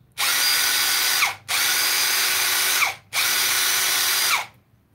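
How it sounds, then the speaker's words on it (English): A Milwaukee 12V cordless impact wrench runs in three sustained bursts of rapid hammering whir, each about a second long with brief pauses between, close and loud. "Here's an impact wrench."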